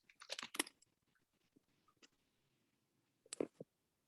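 Typing a name on a computer keyboard: a quick burst of crisp clicks up front, a few isolated taps, then a short second cluster of keystrokes, all close and fairly quiet.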